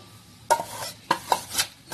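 Mawa (milk solids) roasting in a pan for makhana laddu, stirred in a few distinct scrapes and clinks of a spoon against the pan, close and fairly quiet.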